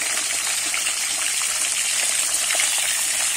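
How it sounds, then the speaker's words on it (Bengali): Salted pointed gourd (potol) pieces fry in hot oil while being turned, giving a steady, close, even sizzle and hiss that runs the whole time with no talking. "এবারে উল্টে পাল্টে আমি কিন্তু লাল লাল করে পটলগুলো ভেজে নেব।"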